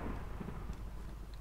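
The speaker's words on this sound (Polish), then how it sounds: "Z piorunami, Bożysko!" Thunder rumbling during a thunderstorm in the video game Minecraft, a steady, low, continuous roll that fills the short moment on its own, with no voices.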